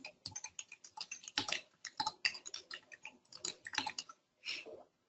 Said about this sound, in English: So I'm just typing in.